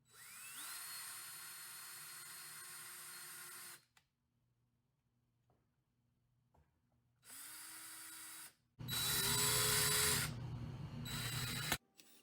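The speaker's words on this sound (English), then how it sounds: "I think I'm gonna use a bigger drill, just that, a bigger drill bit, just in case." A power drill spins up and drills into a wooden plant stand piece in three bursts: a long whine, a pause of near silence, a short run, then a louder, harsher drilling burst, close up.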